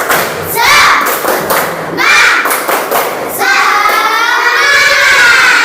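Fourth-grade classroom of children doing a rhythmic 'tepuk semangat' clapping chant, bursts of close, loud patterned claps and thumps in several phrases with young voices chanting along.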